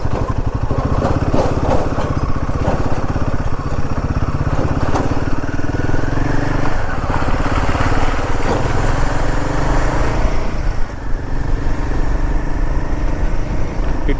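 Motorcycle ridden at speed along a forest road through the Srisailam tiger reserve, its engine droning loud and steady throughout with no talk.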